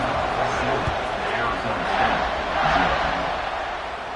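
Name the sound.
stadium crowd cheering at kickoff in the video game NCAA 26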